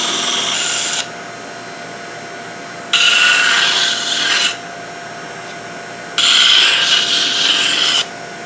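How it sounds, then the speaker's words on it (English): Sandpaper rasps against the edges of a woodturned sushi dish spinning on a lathe, in three loud bursts of scratchy friction separated by the steady hum of the machine running alone. "I can use the tool rest as a table to just go and sand over the edges"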